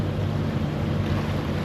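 A boat engine throbs steadily at close range with wind and water noise over it, holding a loud, continuous rumble that shows no clear surge in speed.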